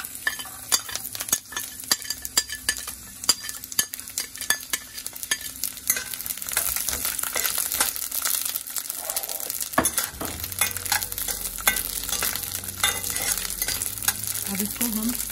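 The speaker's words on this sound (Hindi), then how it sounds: "अब इसमें डालेंगे लहसुन जो हमने काट के रखा था।" Chopped garlic hits hot mustard oil in a pan, giving a steady crackling sizzle with intermittent stirring scrapes, moderately quiet and close, with no voices.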